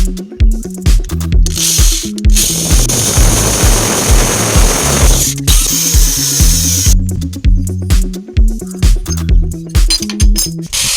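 A power drill bores a hole through a thin tin sheet for a low-cost homemade water heater, giving one harsh, steady grinding whine lasting a few seconds over rhythmic background music.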